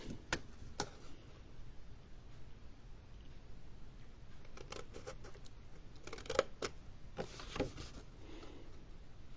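Scissors snipping paper or card for an Easter box, a few sharp, faint cuts scattered through a quiet room, with no talking.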